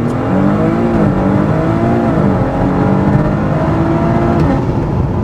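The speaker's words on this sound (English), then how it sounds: "I put my brake pedal all the way down as far as I can and mash my foot on the gas pedal until I build boost." A Stage 3+ Audi SQ5, a heavy SUV, is held on the brake and revved at full boost for a launch. The engine gives a loud, sustained drone whose pitch wavers and climbs slightly.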